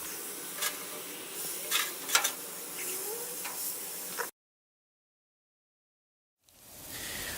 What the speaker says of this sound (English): that's exactly what we're looking for, that sizzle